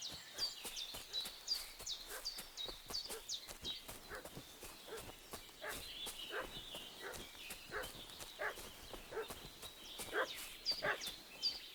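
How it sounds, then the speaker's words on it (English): A dog in Kingdom Come: Deliverance II barks in a rapid series of sharp yelps, fairly faint and distant, over quiet outdoor ambience that may include hoof clops. "What's that dog making such a fuss about?"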